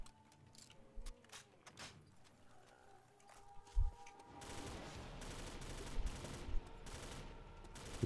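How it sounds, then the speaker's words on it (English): Gunfire in the World at War Nazi Zombies custom map Afterwar, scattered shots at first, then a steady rapid fusillade in the second half, moderately loud and without talk. "Is that you shooting?"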